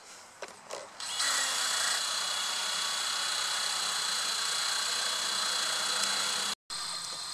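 A Blade 200QX quadcopter spins up on the ground; after a few faint clicks, its rotors start with a sudden high, steady whine that holds and briefly cuts out near the end.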